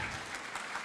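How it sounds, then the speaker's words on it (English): Audience applause from a crowd at a live placemaking event, a brief stretch of dense, even clapping. "Clap for yourselves for doing that ahead of time"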